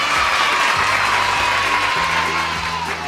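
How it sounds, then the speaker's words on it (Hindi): A crowd of children cheers and applauds at a Children's Day kids' session, a dense, sustained roar of clapping and shouting voices with no pauses. "तालियां।"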